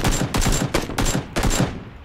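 Gunfire in PUBG Battlegrounds: a loud, close burst of five or six rapid shots in quick succession, alone with no talk, with a short tail fading out at the end.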